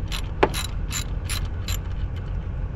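A ratchet wrench unscrewing a car's MAP sensor, giving a series of quick metallic clicking bursts in an uneven rhythm over a low background hum, close and clear with no talking.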